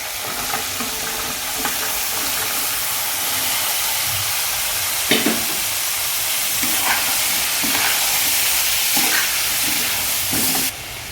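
Papaya pieces frying in a pan for a restaurant-style curry, with a continuous close sizzle and hiss and occasional stirring scrapes and taps.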